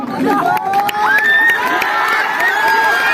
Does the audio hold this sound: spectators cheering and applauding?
yes